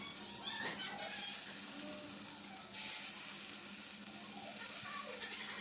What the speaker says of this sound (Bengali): এবার মিক্সচারটাকে ছোট ছোট বড়ার আকারে ভেজে নিলাম।